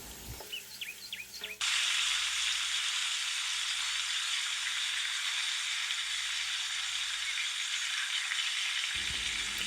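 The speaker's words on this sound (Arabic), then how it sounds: "في كوكوط نضع القليل من الزيت مع الزبدة، ثم نقوم بإضافة قطع الدجاج مع اللحم ونقوم بالتحريك جيدا" Pieces of chicken and meat hit hot oil and butter in a pot, setting off a sudden, loud, steady sizzle that holds evenly, following a brief stretch of faint birdsong and kitchen noise.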